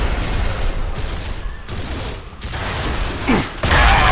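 Dense game gunfire from Gears of War, a continuous loud mechanical rattle of rapid shots with metallic clanks, building to heavier bursts near the end.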